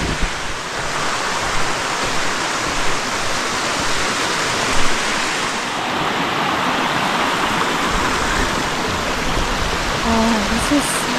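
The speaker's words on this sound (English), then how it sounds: "Waterfalls of Flat Laurel Creek." Waterfalls on Flat Laurel Creek, a loud and steady rush of falling water heard up close along a mountain side trail, continuous throughout with no voices.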